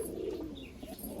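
Pigeons in a loft give a soft, low coo, faint and brief, with a little background hiss.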